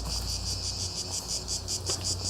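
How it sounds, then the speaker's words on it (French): A dense, pulsing drone of cicadas fills the air, loud and continuous with a regular throb, heard alone with a low rumble underneath. "Ce sont des cigales."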